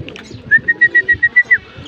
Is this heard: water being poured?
no